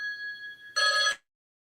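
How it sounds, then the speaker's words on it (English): Telephone ringing with an incoming call: a steady electronic ring tone, then a louder burst of ringing that cuts off abruptly, close and clear with no talk. "One moment, please. I have a phone call."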